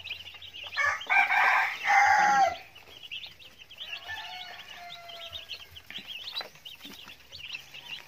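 Chickens and young chicks in a coop during a power outage, with a loud burst of rooster-like clucking and squawking early on, then steady high peeping from the chicks that continues throughout.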